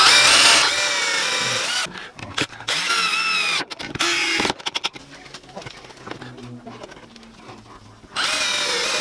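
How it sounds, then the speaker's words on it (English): Power drill pre-drilling glued wooden crate boards, several short bursts with pauses between, near and loud, with bird cooing in the background. "I'm going to pre-drill these."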